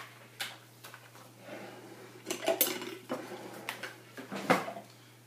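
A small spatula clinks and taps against dishes while soap colours mixed in oil are stirred, giving several close, light, irregular knocks and scrapes with no talking.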